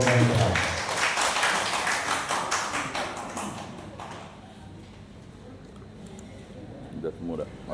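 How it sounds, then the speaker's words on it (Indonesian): An audience at a regional Catholic religious instructors' presentation event claps in a dense burst at the start, then the applause tapers off and gives way to quiet murmuring voices. "Ya, tepuk tangan inilah Pak Edo Mahendra."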